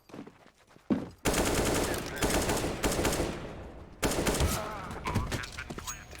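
Rapid bursts of automatic gunfire from a first-person shooter game during a competitive unranked match, loud and dense, coming in two sustained volleys separated by a short gap.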